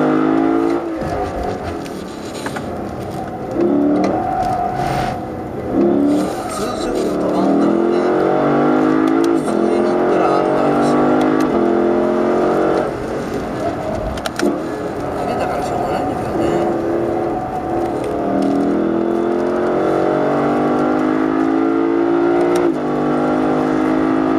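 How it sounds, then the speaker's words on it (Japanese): A Lexus LC500 is driven hard on a racing circuit, attempting drifts, its engine roaring loud and close throughout, rising and falling with acceleration and lifting off. "恒例のドリドリチェックも思ったよりドリフト続かない"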